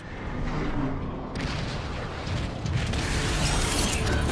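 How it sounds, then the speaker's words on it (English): Decepticon warp cannons shelling in Transformers: Fall of Cybertron, a dense rumble of booming artillery blasts and mechanical clatter that swells in waves and continues without a break. "there are three warp cannons shelling the Ark"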